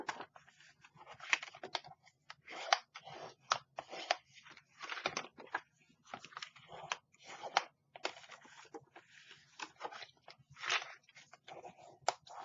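Scored paper being folded along its score lines for a French country craft project, giving a long run of quick, crisp crackles and creases in irregular bursts, close up and fairly quiet.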